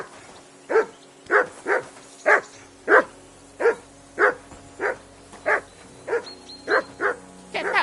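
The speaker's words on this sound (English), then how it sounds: "Get that mutt of yours to stop barking, will you?" A dog in Kingdom Come: Deliverance II barks at a steady rhythm, about a dozen evenly spaced woofs, close and clear over a faint game background, with no talk.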